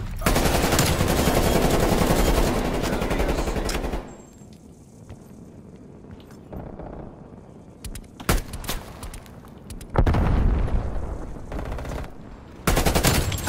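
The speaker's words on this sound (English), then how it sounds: "I can't believe I got that frag kill." Gunfire and explosive bursts from a Call of Duty Cold War match, with a frag grenade kill amid loud dense bursts at the start, a quieter stretch with scattered shots, then renewed heavy firing near the end.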